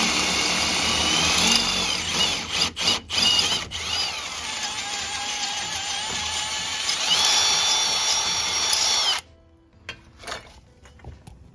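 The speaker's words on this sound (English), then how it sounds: "I'm just going to drill it through so the bolt will fit" A power drill grinds steadily through metal on a Golf R32 with Maxpeedingrods coilovers, drilling a bolt hole, with a high whine, briefly pausing and restarting, then stops abruptly, leaving faint clicks and handling noises.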